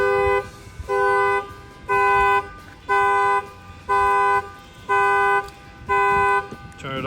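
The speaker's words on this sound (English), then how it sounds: "The alarm's gonna set off." A factory car alarm on an Infiniti QX50, set off by its shock sensor, blares a loud repeating horn-like tone in seven even pulses about once per second, cutting off abruptly at the end.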